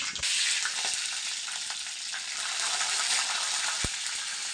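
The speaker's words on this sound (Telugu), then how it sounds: "ఆయిల్ వేడెక్కింది కొంచెం జీలకర్ర కొంచెం ఆవాలి" Cumin and mustard seeds hitting hot oil in a kadai burst into a sudden, loud, steady sizzle that continues close up throughout, with one sharp click partway through.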